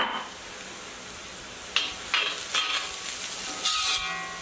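Tindora sliced and frying over a low flame, with green chilies, crushed red chilies and tamarind stirred in. A steady sizzle runs under a few sharp scraping stirs in the second half.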